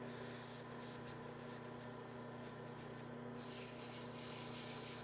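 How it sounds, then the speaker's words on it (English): Sanding a small turned wooden treen piece to ease a tight fit, a continuous soft, even rubbing hiss that runs close and steady for a few seconds with no voices. "it's a little tight, so I'll sand it a little bit more"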